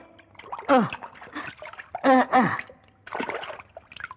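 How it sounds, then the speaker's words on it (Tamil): Clothes are washed by hand in water, with irregular splashes and sloshing bursts mixed with voiced sounds. "எவ்வளவு துணி தான் துவைக்கிறது"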